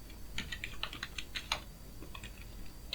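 Typing on a computer keyboard comes through as a quick, irregular run of light clicking keystrokes, close and fairly quiet, with no voice.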